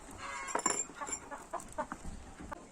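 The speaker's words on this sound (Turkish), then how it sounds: "Gerçekten Halit dayımda bir tane horozu var." A prized champion rooster clucks in a string of short, uneven calls, fairly close and alone with no talk.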